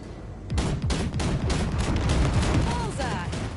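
Sustained rapid gunfire blasts at wrecks in the Cyberpunk video game, dense loud volleys of shots starting after a brief pause and continuing throughout, with faint game effects near the end.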